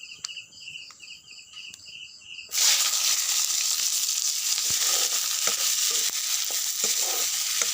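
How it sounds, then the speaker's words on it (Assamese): Onions drop into hot oil in a pan that already held fried meat, and a loud steady sizzle starts abruptly and continues, with occasional stirring taps; a high insect-like hum is heard before the frying begins. "পিঁয়াজখিনি ভাজি লওঁ"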